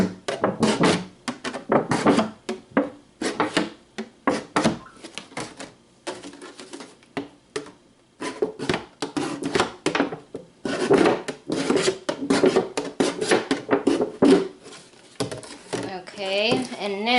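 Plastic milk jugs get drainage holes punched or cut through their bottoms, giving a run of sharp, irregular tapping and scraping bursts, close and fairly loud, with short pauses in between.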